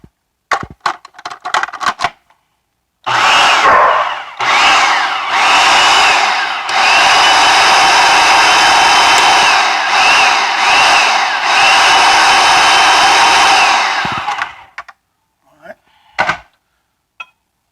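Mashed cauliflower being stirred with dry cheese in a bowl, a steady, loud scraping and clattering that runs for about eleven seconds between short bursts of knocks before and after.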